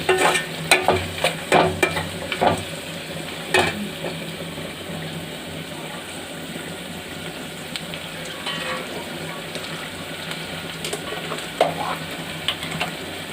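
Vegetable palaav being stirred and fried in a pan, with a soft continuous sizzle under repeated scraping spoon strokes that come in a burst early and then thin out, close and moderately loud.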